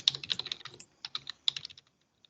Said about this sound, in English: we're typing our emails into the chat.